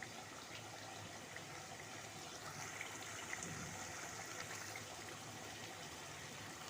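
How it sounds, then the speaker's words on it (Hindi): Tetra pack cream pours into chicken karahi as a steady, soft liquid stream, close and continuous for several seconds with a gentle splashing texture. "अब यहाँ पे थोड़ा सा जो है ना हम डालेंगे टेट्रा पैक वाली क्रीम"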